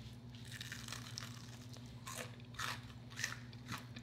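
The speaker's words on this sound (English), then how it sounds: "let me crunch on this one more time so y'all can hear it" Close, crisp crunching bites into a fried Dairy Queen onion ring, several crunches in a row over a steady low hum.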